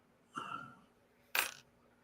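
A war nickel drops onto a hard surface, giving a short bright metallic clink, loud and close, after an earlier softer sound.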